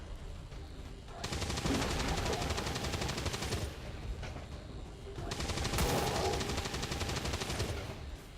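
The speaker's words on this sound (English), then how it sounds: "Reload, and let's rapid fire that bitch." Rapid bursts of automatic gunfire from a squad rifle in XCOM 2, two dense sustained volleys with a brief gap between them, loud and close, with no talking over them.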